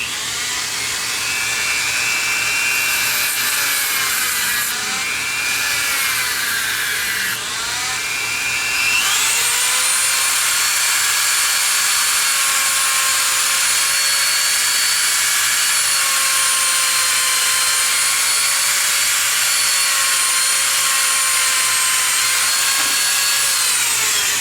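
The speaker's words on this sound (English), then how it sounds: "I'll get my Dremel out and we'll use the grinding wheel and cut that down a bit" A Dremel rotary tool with a grinding wheel cuts down an electrode from a 1993 phone: a loud, continuous high-pitched whine that shifts pitch as the wheel bites and eases, holding steady for over twenty seconds.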